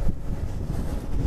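Strong wind buffeting a misty hilltop in Kotagiri, a steady low roar with rumbling gusts pressing on the microphone, no voices.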